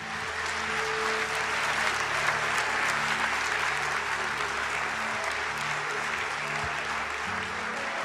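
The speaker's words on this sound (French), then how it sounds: "Bate as palmas muito forte." A church congregation claps hands loudly and steadily, a dense, continuous wall of applause that holds at an even level throughout.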